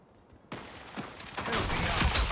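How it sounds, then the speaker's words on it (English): Video game gunfire, including a shotgun, breaks out after a quiet start: sharp blasts arrive in a quick cluster, then build into dense, loud rapid fire toward the end. "Oh fucking shotgun!"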